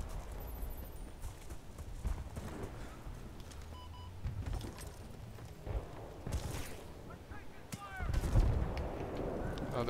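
Gunfire rings out in Battlefield Bad Company 2, scattered distant shots and bursts cracking through a busy battlefield backdrop, with a player talking over it.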